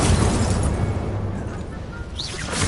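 The Incendio fire spell in Hogwarts Legacy goes off as a loud close roaring burst of flame, a broad whooshing blast that fades slightly toward the end, with a short rising whoosh just after.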